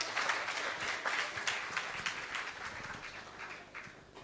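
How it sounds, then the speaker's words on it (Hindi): A poetry gathering audience keeps up steady applause, a dense wash of many hands clapping throughout, moderately loud and fading slightly toward the end. "जोरदार तालियों से सम्मान करें आप"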